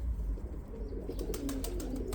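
Young pigeons feeding outdoors give soft, low cooing calls, faint and close, with a few light ticks and flutters around them and no talking.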